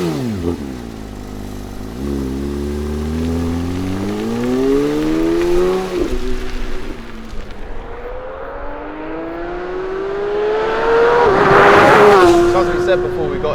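Porsche 992 GT3 engine heard from inside the car on a drive, rising and falling through gears with steady harmonic tones that climb as it accelerates, loudest near the end, with people talking over it.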